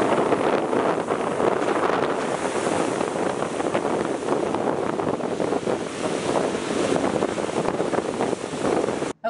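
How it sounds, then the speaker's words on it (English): Wind-driven waves churn on a lake in a steady, loud wash of surf, mixed with buffeting wind on the microphone, continuous for about nine seconds with no talking. "look at these waves on a lake"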